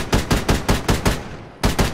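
Gunfire in the military video game Arma 3: a rapid, evenly spaced burst of about seven loud, close shots, a short pause, then two more.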